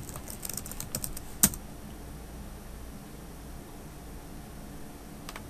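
Someone types a terminal command on a computer keyboard in a quiet room, with a quick cluster of soft key clicks and one sharper tap, followed by near silence and a faint background hiss.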